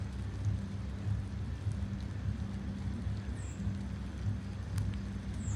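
Steady rain falls at night near Taal volcano, a soft continuous outdoor hiss with a low rumbling undertone throughout, no voices.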